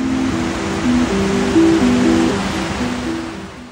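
Large waterfall in the Cirque de Gavarnie, a snow-capped mountain amphitheatre, giving a steady broadband roar of falling water, constant and fairly loud, with faint tonal hum beneath.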